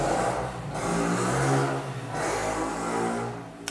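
A motorcycle passes by on the street, its engine rising and falling in two loud swells of revving roar over a few seconds, with a sharp click at the end.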